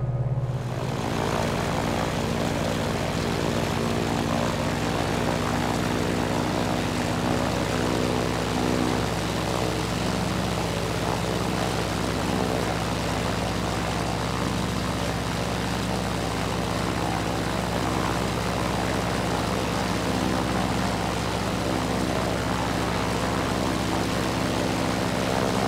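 A Grumman F4F-4 Wildcat propeller fighter in flight in Microsoft Flight Simulator 2020, its piston engine and airscrew giving a loud, unbroken droning roar that holds steady from start to finish with no talk.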